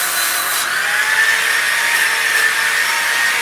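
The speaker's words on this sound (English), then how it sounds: "this sander's awesome" An electric sander works on wood for a sign, giving a steady, loud, continuous high-pitched hiss and whir with no break across the whole stretch.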